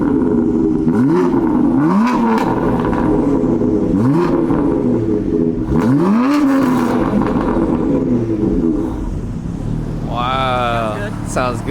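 A BMW F80 M3 fitted with an Active Autowerke non-resonated equal-length mid pipe revs repeatedly in loud rising-and-falling sweeps, close by, and someone talks over the engine between pulls.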